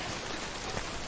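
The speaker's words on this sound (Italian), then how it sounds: "Comunque già comincia a piovere" Rain begins falling in the video game Death Stranding, a dense, even hiss of drops that stays steady and fills the background for a brief moment.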